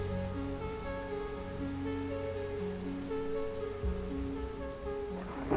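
Steady patter of rain falling in a video game, a soft continuous wash with background music tones running under it throughout.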